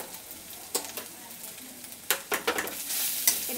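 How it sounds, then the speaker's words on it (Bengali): Spices are stirred into a sizzling frying pan for potato chop, a spatula scraping and clinking against the pan in quick irregular strokes over a continuous frying hiss. "এটাকে একটু নেড়ে নিচ্ছি।"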